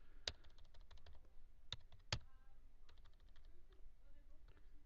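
Quiet clicks and taps on a computer keyboard, a few sharp keystrokes and a short run of lighter presses, faint and close, with soft talk underneath.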